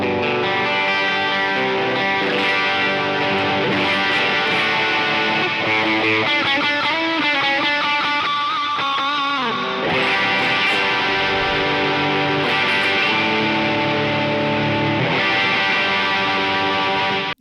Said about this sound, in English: It is the Zach Myers 594 semi-hollow by PRS